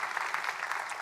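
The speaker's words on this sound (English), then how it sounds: "Would you please give all those folks a round of applause, please?" Brief burst of audience applause thanking volunteers before a piano concert, a dense steady patter of many hands filling the room at moderate level.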